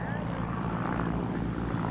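Old propeller planes taxi down the runway in front of an air show crowd, a loud, steady engine and airscrew drone with a faint voice beneath it.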